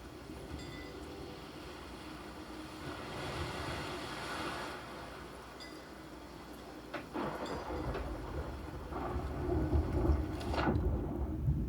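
A long, rolling rumble of video game thunder builds and swells, with sharp lightning crackles near the end, all under a constant heavy rain-like hiss.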